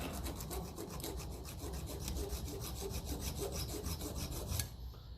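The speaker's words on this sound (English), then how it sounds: "we'll slot these a bit better with the tuner hacksaw just to clean them out." A hacksaw cleans out slots in metal parts of a Lucas starter for a 1953 Ferguson 20 diesel tractor, a close, fairly quiet run of quick rhythmic rasping strokes that stops just before the end.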